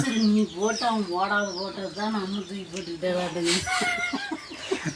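Hens cluck in a rapid, repeated pattern close by, with other birds chirping around them and voices mixed in.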